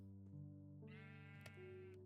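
Minecraft sheep bleats, a drawn-out wavering baa with clear harmonic tone over a steady low game hum, fairly faint.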